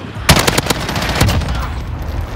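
Rapid automatic gunfire in the video game Call of Duty: Modern Warfare, a short burst of loud close shots followed by a second brief volley over a background of in-game ambience.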